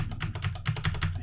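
Rapid typing on a computer keyboard while building a game, a steady run of crisp, evenly spaced key clicks over a low hum, close and moderately loud with no voices.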